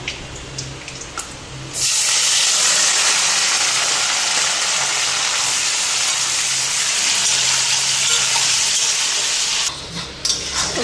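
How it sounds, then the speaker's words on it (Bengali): Paneer sizzling as it fries in a pan: a loud, steady hiss that starts abruptly, holds for several seconds, then drops back to quieter kitchen sounds. "এদিকে এখন পনিরটা ভাইজা পনিরের তরকারি বসাই"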